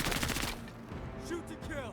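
Gunshots in Menace on expert difficulty, a loud burst of rapid fire at the start that thins into scattered shots and echoes, with brief voices over the tail.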